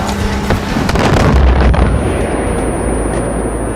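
A mortar shell bursts in a first-person shooter set among cult territory, a loud booming blast with rumbling low-end debris that rolls on and lingers for several seconds, with no talking.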